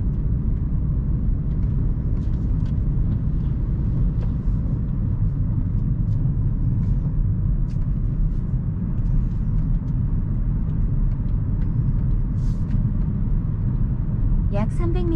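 A car driving on a road at night in Anseong, South Korea, with a steady, loud engine and road rumble throughout and a few faint clicks and ticks above it.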